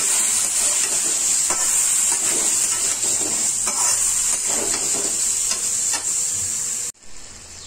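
Drumstick and potato sabji, with added water and spices, sizzles steadily in a pan while being stirred. A bright frying hiss runs throughout with soft scraping stir strokes before it cuts off near the end.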